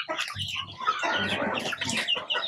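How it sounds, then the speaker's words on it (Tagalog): Free-range Rhode Island Red chickens cluck busily and close by while eating coconut pulp. Overlapping clucks and squawks continue without a break, with no talking. "pinapakain natin ng coconut meat or coconut pulp ang ating mga Rhode Island Red Chickens"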